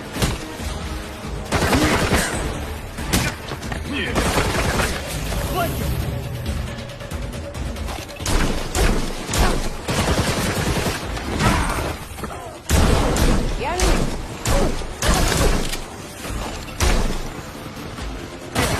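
Gunfire in the Resident Evil 4 Remake zombie village fight: dense, loud bursts of shots and fusillades, some rapid like a machine gun, across the whole stretch, mixed with game speech and a sharp break midway.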